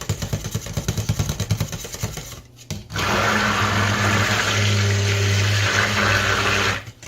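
Immersion blender mixing cold-process soap batter: a choppy, pulsing burst of blending stops briefly, then a steady, loud continuous whir of mixing runs to the end, close up with no talking.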